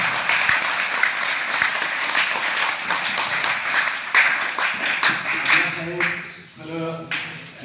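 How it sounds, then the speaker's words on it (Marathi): Enthusiastic audience applause at a wrestling gymnasium felicitation ceremony, a dense steady wash of many hands clapping for the coaches, loud and sustained before thinning out near the end. "या वस्तादांसाठी तुम्ही जोरदार टाळ्या करा सर्वांनी"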